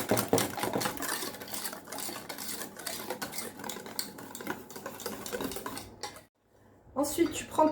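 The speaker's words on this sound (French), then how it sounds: "Et donc je viens remuer ce mélange d'œufs," A whisk beats a mixture of eggs, sugar and vanilla in a bowl with rapid, continuous scraping strokes that run steadily up close, then break off briefly near the end before resuming.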